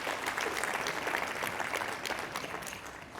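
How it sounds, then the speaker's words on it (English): A room full of people claps steadily for a few seconds, a dense patter of applause that gradually thins out. "So some applause for everybody in the room."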